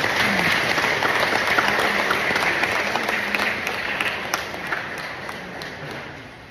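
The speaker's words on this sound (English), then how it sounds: "please take a bow and give yourselves a round of applause." Sustained applause from a large audience at a 20th-anniversary Mass fills the room, many hands clapping at an even intensity that slowly tapers toward the end.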